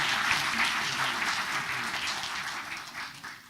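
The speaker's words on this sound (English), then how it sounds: "Big round of applause." A township committee meeting audience breaks into a big round of applause: dense, steady clapping from many hands that stays loud and even before easing slightly toward the end.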